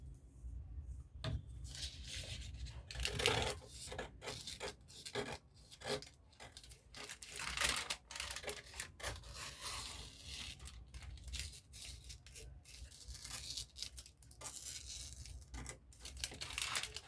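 Scissors cut through fabric for a halter neck maxi gown, giving close, repeated rasping snips and rustling drags at an uneven rhythm that runs throughout, fairly quiet.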